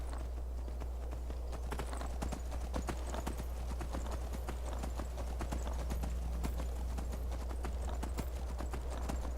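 Hooves of an Elven Armored Horse clip-clop in a quick, steady gallop in Skyrim, loud and close over a constant low rumble, continuing without pause.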